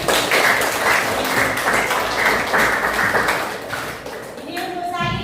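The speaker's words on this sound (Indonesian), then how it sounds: "Tepuk tangan untuk kita semua." Classroom applause from children during an Indonesian language lesson, a dense, steady clatter of many hands filling the room, with a teacher's voice and a voice rising near the end.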